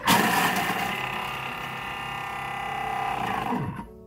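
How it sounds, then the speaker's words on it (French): A Thermomix food processor mixes a salad on its blending setting, giving a loud, steady motor whir with a high whine that runs for about four seconds before cutting off abruptly, with no talking. "Et on va mixer 5 secondes."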